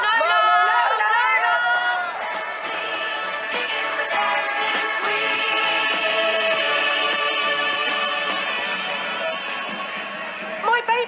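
Dense crowd noise at a large street protest, a steady mass of overlapping voices and shouts, loud and close throughout, with harmonic vocal tones suggesting chanting or calls rising above the general din.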